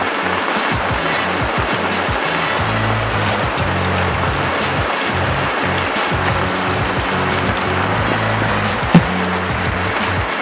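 Heavy monsoon rain pours down by a flooded seashore as a dense, constant hiss of falling water, loud and unbroken throughout, with no voices.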